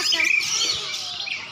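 A songbird chirps and trills at a bird singing contest, its short, bright, fairly close calls sitting over faint background murmur.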